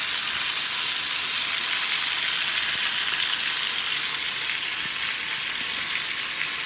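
Calamari deep frying in a pot of hot oil, giving a steady, dense sizzle and crackle that holds an even loudness from start to finish.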